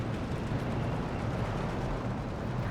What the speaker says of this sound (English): 4 mortar teams firing away at us